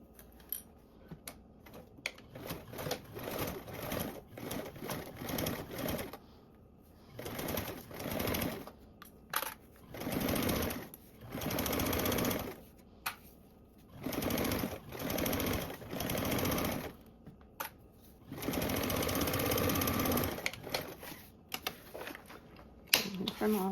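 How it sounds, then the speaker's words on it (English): A sewing machine top stitches binding on a tote bag with a 1/4 inch seam allowance, running in repeated loud bursts of several seconds separated by short pauses, with the longest run near the end. "Now you can top stitch with a 1/4 seam allowance."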